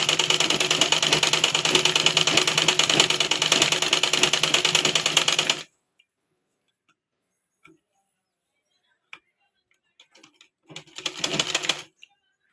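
An old sewing machine stitching a cloth glove made from old fabric runs loud and rapid for about five and a half seconds, then stops; after a near-silent pause, a short second burst of stitching follows.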